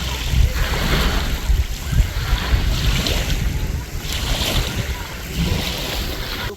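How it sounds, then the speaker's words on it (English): Strong wind roars and buffets the microphone while paddling on a lake in an Ontario provincial park, a continuous loud gusting rush with faint water splashing beneath, close and without clear talk. "Wind's pretty strong."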